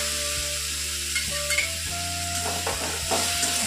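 A paste of ground poppy seed, garlic and chili fries in a pan with a steady close sizzle, punctuated by several soft scraping stirs.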